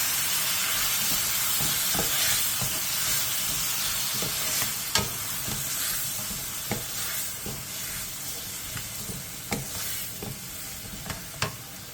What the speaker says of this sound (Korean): 그 다음 양념장을 넣고 골고루 섞일 정도로만 가볍게 볶아주세요.